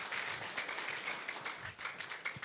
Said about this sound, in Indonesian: Berikan tepuk tangan bagi Tuhan kita.